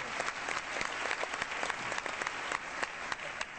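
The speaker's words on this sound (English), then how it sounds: "I think a round of applause for what you're doing here" A debate audience in New Hampshire gives a round of applause for military service members, a dense patter of many hands with sharp individual claps, moderately distant.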